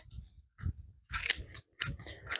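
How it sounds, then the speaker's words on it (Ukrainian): Garden scissors snip flowers from a shrub in quick crisp cuts, a few separate clicks and then a tighter cluster of snips, close and with no talking. "беру, обрізаю всі квіти"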